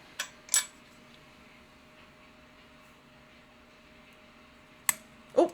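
Trumpet valve clicking into place during assembly, a few faint close sharp clicks spread across a quiet stretch with no talk.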